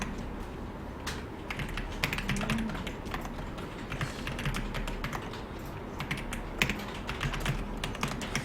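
Rapid, uneven clacking of a heavy computer keyboard being typed on up close, keystrokes sharp and loud, continuing throughout without talk.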